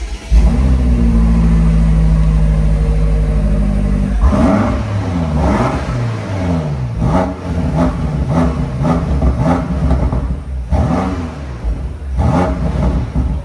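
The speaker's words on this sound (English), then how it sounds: "Now we actually pressed this button, start stop button, earlier to hear the sound" A BMW M8 Competition V8 cranks and fires up with a loud, deep burst, then settles and revs repeatedly, each blip rising and falling in pitch close by.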